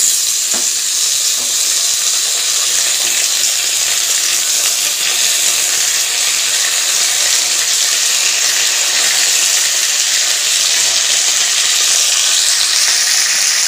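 Vegetables with added sweet potato fry loudly in a pan, a dense, constant close-up sizzle with faint stirring scrapes, and no voices over it.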